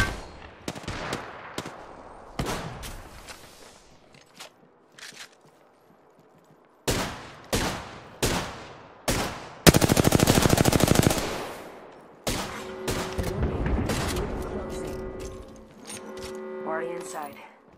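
Gunfire in the battle royale game Apex Legends: scattered close single shots, then a sustained rapid automatic burst, followed by more bursts. Game effects and tonal sounds follow.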